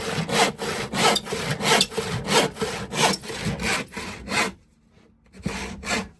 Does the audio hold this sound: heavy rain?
no